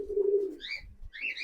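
A young pigeon in a loft gives a soft, low coo followed by a couple of thin, high squeaky chirps, close and quiet.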